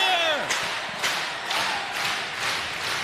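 Wrestling fans at an AEW Collision show clapping in a steady rhythm, sharp crowd claps landing about every half second, loud and close with arena noise between beats.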